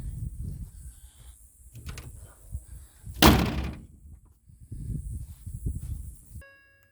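The hood of a 2014 Ford F150 slams shut once with a loud, sharp thud midway, preceded and followed by low rumbling handling noises and a faint high hiss; nobody talks.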